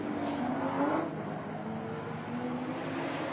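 Porsche race car at a time attack event bouncing off its rev limiter, a dense, loud engine drone with a sharp burst near the start, heard alone without talk.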